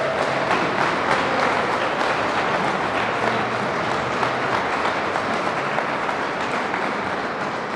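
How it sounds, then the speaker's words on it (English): A large audience at a birthday celebration applauds in a dense, sustained roar of clapping that holds steady throughout the clip. "We should clap for that"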